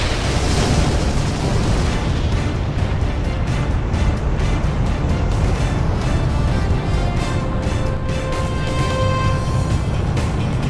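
Loud, sustained blast from a missile strike in the combat flight game Ace Combat 6, a dense rumbling roar that fills the whole stretch with a brief sharper burst near the start and steady low boom throughout, no talk over it.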